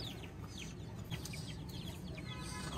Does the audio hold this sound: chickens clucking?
yes